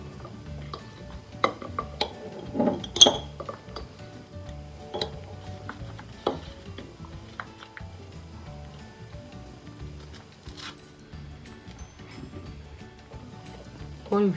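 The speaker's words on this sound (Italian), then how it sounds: "Adesso mettiamo ancora un po' di marmellata" A spoon scrapes and clinks against a dish while jam is spooned into filled pastries, giving scattered light taps and soft stirring sounds that are louder early on and quieter later.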